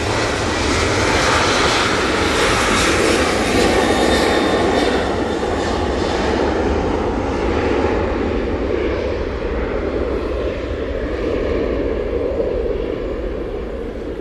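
A Ryanair jet departs Manchester Airport bound for Naples, its engines producing a loud, steady, broadband roar that holds strongly for the whole stretch and eases only slightly toward the end, with no voices over it.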